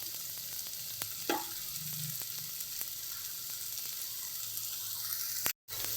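Masala powder, Aachi kuzhambu masala and Kashmiri chilli powder, sautéed with garlic in a pan, giving a soft steady sizzle with faint stirring scrapes and a brief clink near the start.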